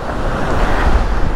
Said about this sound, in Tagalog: At ayan, malaki nga ang alon mga paps.